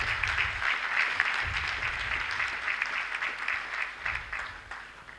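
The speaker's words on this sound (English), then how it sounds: "Let us clap for our dear university." Audience applause at a university institute's anniversary and induction ceremony, steady dense clapping from a large crowd throughout, with low rumbling room noise underneath.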